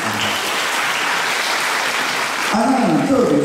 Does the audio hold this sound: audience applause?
yes